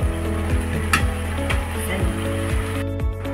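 Squid adobo sizzles in a hot pan while being stirred, a continuous close frying hiss broken by regular scraping strokes of the utensil against the pan, with music playing underneath.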